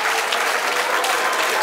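A studio audience on a televised Guinean debate show applauding, a loud dense burst of crowd clapping that holds steady throughout.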